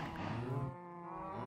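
Cattle mooing in the Minecraft video game, a loud cluster of overlapping cows lowing at once, with no talking.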